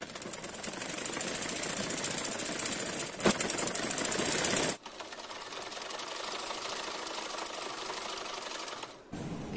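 A sewing machine stitching a seam on ladies' cigarette pants, running in a fast steady mechanical whir, stopping briefly midway, then running again at the same close, even pace until a short pause near the end.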